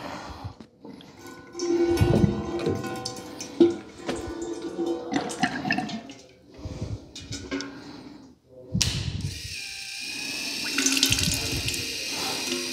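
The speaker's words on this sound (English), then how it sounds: "The sound you just heard was me opening the electronic valve on the auto draw off" Liquid rushing out through a maple syrup evaporator's auto draw-off after its electronic valve is opened by hand, a loud, steady gushing and splashing flow with surges and gurgles throughout.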